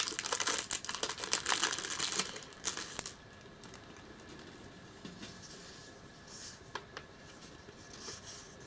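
Plastic packaging from a January 2017 Nihonbox Japanese subscription box crinkles and tears close up in brisk bursts for a few seconds, then quiets to faint, scattered rustles and taps.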